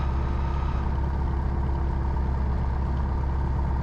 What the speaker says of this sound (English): Engine is idling smoothly.